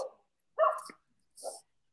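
Dogs bark in the background during a lacrosse podcast, with two or three short separate yips and barks, moderately close with pauses between them.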